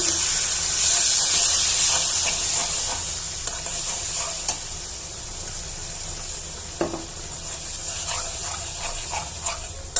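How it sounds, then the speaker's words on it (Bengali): Spice paste of chili, coriander and turmeric powders with salt and a splash of water sizzles and hisses steadily in a pan, with occasional stirring scrapes and clinks throughout. "মশলাটা কষানোর জন্য সামান্য পানি দিয়ে দিলাম"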